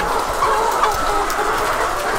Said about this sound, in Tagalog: Thankful din kami na sobrang healthy and active ng ating mga alagang manok.